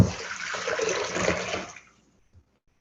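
Marinade from beef pours back into a saucepan in a steady, close liquid splash that runs for nearly two seconds, then stops abruptly, with a faint clink after.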